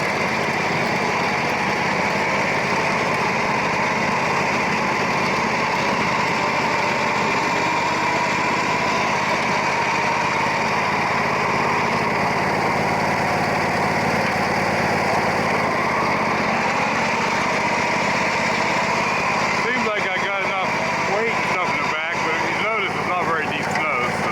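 An MTD riding mower's small engine runs steadily while it plows shallow snow off a driveway, a continuous close buzzing drone that stays even throughout, with a rougher, choppier stretch near the end.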